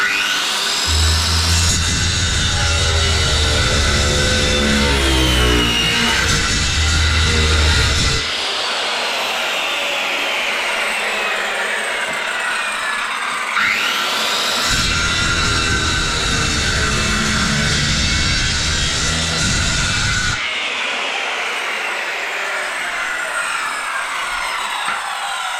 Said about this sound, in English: So I'll get my skill saw, run through that. So we'll just cut through the stud.